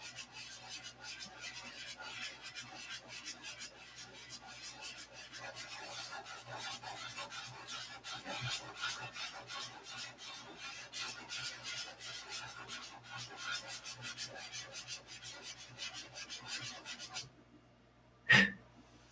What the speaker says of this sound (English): Kind of gives you an insight to how I sand